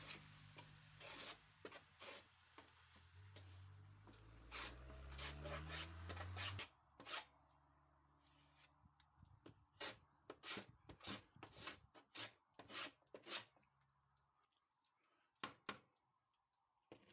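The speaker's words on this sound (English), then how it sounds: "I shall have to chamfer off the two newly cut sides so that they match the original two" Faint, uneven rasping strokes of chamfering along the freshly cut edges of a wooden panel, some scrapes clustered and others isolated, with a low hum in the first half.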